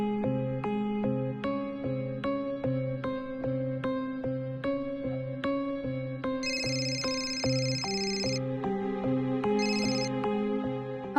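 A phone ringtone repeats a steady, bright melodic pattern up close for about eleven seconds, with higher chime notes joining in partway through, and no one speaking.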